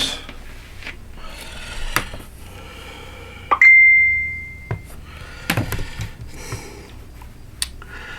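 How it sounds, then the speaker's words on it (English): A Facebook Messenger notification sounds as a single clear electronic tone lasting about a second, rising over rustling and thumping from quilt block cutting nearby. "Sounds like somebody just sent a Facebook Messenger message to Urban Elements."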